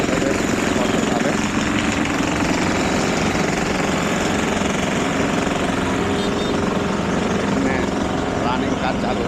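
Heavy machinery works at the demolition of shops at Dak Bungalow, a dense, continuous, loud engine roar with rattling, hammering texture, while a person talks nearby.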